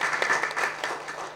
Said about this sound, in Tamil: திரு புஷ்பராஜ் அவர்களை எல்லோரும் கைத்தட்டி நமது நன்றியினை தெரியப்படுத்துவோம்.